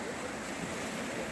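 The rivers meet at the Devprayag confluence in the Himalayas of Uttarakhand, where the Ganga begins, producing a continuous broad roar of rushing water mixed with wind, steady and fairly close.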